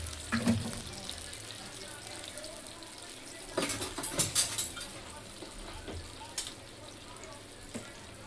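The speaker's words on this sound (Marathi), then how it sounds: "ह्याच्यात ॲड करते पाणी. चांगलं बॉईल करायचं आहे" Water is poured into a pan on a home gas stove for boiling while chicken biryani and chilli chicken are cooked, a low watery hiss with occasional clinks and bursts, as someone talks faintly.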